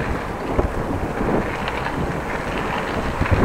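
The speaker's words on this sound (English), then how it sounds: "a little bit of wind does help my ride home" Steady, loud wind buffets the microphone while cycling along the Van Starkenborghkanaal in the Netherlands, a continuous broadband roar with no voices.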